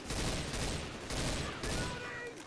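Video game gunfire rattles in dense, rapid bursts, three sustained volleys of loud automatic shots separated by brief pauses.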